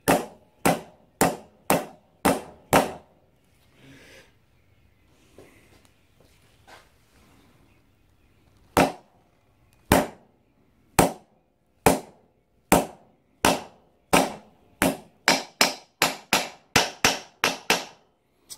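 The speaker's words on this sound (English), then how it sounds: "we've basically gone as far as we can with the hammer with nothing else because it's flush with the top of the tube" Steel hammer repeatedly driving a steering head bearing into the head tube of a motorcycle frame, sharp loud metallic blows in uneven bursts at first, then a pause with faint handling noise, then a long steady series of evenly spaced strikes.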